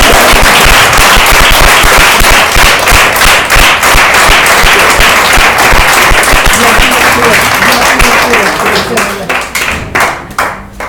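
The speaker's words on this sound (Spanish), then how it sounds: "Dale otro aplauso al Rey." Loud, sustained applause and cheering fill a church service, dense clapping continuing steadily before thinning into scattered claps near the end.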